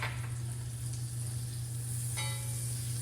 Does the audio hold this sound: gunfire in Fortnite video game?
no